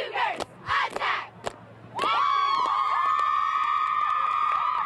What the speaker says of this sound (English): There it is, Palmyra cheerleaders fired up tonight.